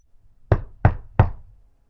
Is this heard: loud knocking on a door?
yes